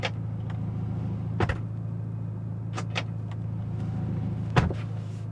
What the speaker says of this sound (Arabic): تفصيل تصميمي آخر فنان فيها هو صوت الأبواب لما يفتحوا ويسكروا.